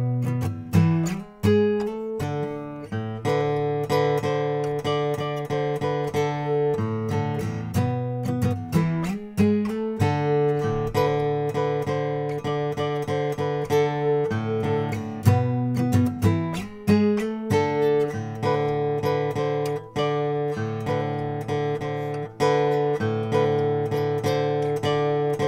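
Acoustic guitar plays the short solo interlude from a song, ringing chords and picked notes climbing high on the neck in a steady, close, unaccompanied passage with no voice.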